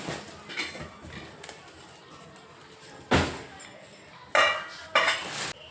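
A heavy-bottomed kadhai, an Indian wok that is thin near the rim, is handled in a kitchen, giving several loud metallic clanks and knocks over quieter rattling.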